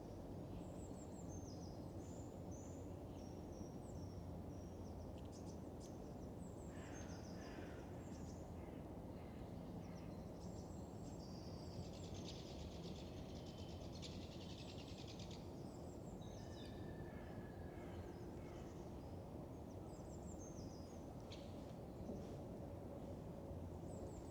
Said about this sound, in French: on a entendu des mésanges charbonnières, des mésanges bleues